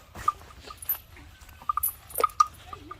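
A dog lets out several short, sharp barks and yips at irregular intervals, fairly close, over a low background rumble.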